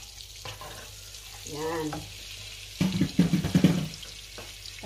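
Butter sizzling and being stirred in a pan while making dinuguan, a soft crackle with scraping stir strokes, broken by a short spoken word and later louder clattering stirs.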